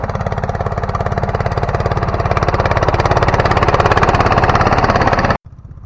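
A homemade SF-200 tractor drags a homemade PN 1-30 single plough with a cutting disc through stubble. Its engine thrums close and loud in a steady, fast pulsing beat, then drops to a quieter idle at the very end.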